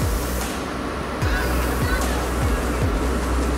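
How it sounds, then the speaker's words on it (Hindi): Rainwater rushes down from a hillside under heavy pressure near Garwaji in Alwar, Rajasthan, a loud, steady roar of torrent filling the scene with constant broadband noise and no pauses. "ये देखिए दोस्तों कितना ज्यादा प्रेशर है इस टाइम पानी का।"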